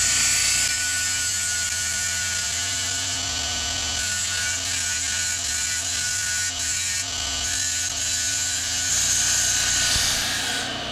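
A power tool whines steadily while sharpening the end of a potato gun pipe, a loud, continuous high-pitched grinding buzz with slight wavering, close up and alone for the whole stretch.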